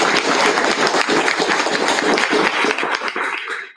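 An audience at a school district business meeting claps to honour long-serving staff, a full burst of many hands that holds steady, then tapers off near the end.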